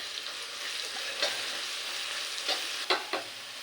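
Dried red chillies and onions fry in sunflower oil for kadai chicken, making a constant hissing sizzle with a few light stirring clicks near the end.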